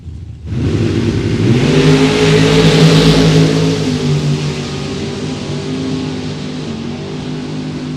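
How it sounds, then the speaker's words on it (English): A dragster at a drag race roars to life with a loud engine rev that swells quickly and holds as a sustained, close, powerful drone with a slight settling toward the end, with no talk over it. "Tyler McCurry out of Westland in the dragster."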